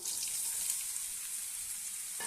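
Ridge gourd pieces frying in a little oil in a kadai for a ridge gourd tomato chutney, a soft, steady sizzle heard close and fairly quiet, with one brief clink near the end.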